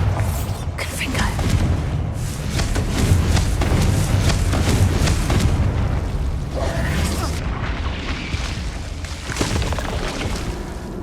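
Fiery blast spell explosions in the Hogwarts Legacy video game, a dense run of booming bursts and crackling impacts layered over continuous game music and effects for several seconds.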